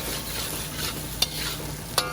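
Drunken noodles, Pad Kee Mao, stir-fried in a very hot wok with charred bits being scraped up: a steady sizzle with a spatula churning through, and two sharp metallic scrapes or clanks against the wok near the end.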